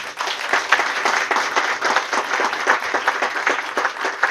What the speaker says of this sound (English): Let's give Mr. Parker another round of applause.